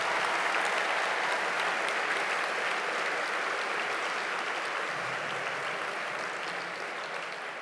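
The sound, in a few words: audience applause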